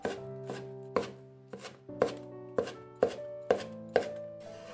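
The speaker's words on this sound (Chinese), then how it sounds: "给它切成葱花" A knife chops fresh scallions on a cutting board in a home kitchen, with about nine crisp, evenly spaced chops close up and nothing else heard.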